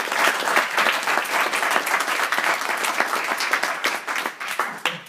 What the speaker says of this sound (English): but still, we need a big round of applause for Paul.